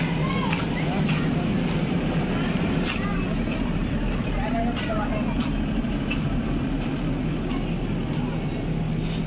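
A generator runs at an outdoor brass band setup at Vani Gad. It makes a steady, loud engine drone with a low hum throughout, and a murmur of voices sits in the background.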